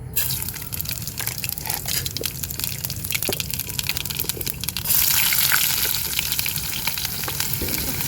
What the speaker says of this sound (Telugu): ఇక తాలింపు గింజలు వేసుకుందాం.